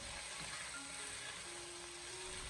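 Chicken pieces sizzle in a wok during ginger-and-scallion stir-fry, a steady close hiss of frying oil with faint stirring, no voices.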